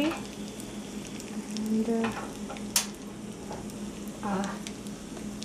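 Cumin seeds and asafoetida sizzle in hot oil for a dal tempering, a steady crackling fry running throughout with brief louder pops, while a voice speaks briefly over it.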